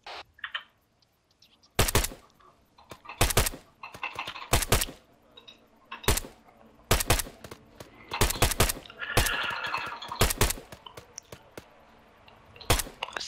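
Rifle shots in the military shooter ArmA 3 ring out as sharp, loud single cracks and quick pairs spaced irregularly across the scene, with faint background chatter and ambient noise between bursts.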